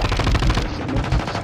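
Rapid, sustained automatic gunfire from the video game Call of Duty Modern Warfare II: a dense, loud stream of shots in quick bursts that fills the whole moment, with no talk over it.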